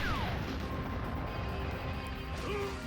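Poison bubble jutsu explosion in the Naruto Ultimate Ninja Storm Connections video game, a crashing, blasting burst with a rumbling wash of noise and swooping tones, loud and continuous for a few seconds.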